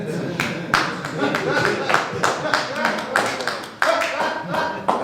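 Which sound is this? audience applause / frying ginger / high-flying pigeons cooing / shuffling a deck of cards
audience applause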